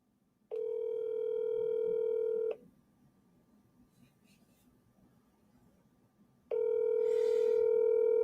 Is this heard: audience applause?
no